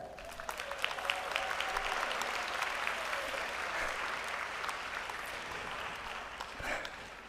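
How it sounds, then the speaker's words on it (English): A graduation convocation audience claps steadily for the graduates, a full, even round of applause that holds for several seconds with a slight swell near the end. "Can we get a round of applause for that?"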